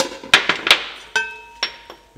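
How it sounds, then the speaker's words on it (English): Several sharp metallic hammer strikes on a center punch marking metal, irregularly spaced, some ringing briefly with a bright clink. "we're gonna center punch a mark right there"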